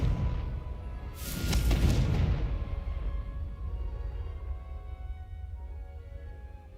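A Confringo blasting spell in Hogwarts Legacy goes off with a loud explosive burst and deep boom, then a long rumbling tail that fades slowly over several seconds.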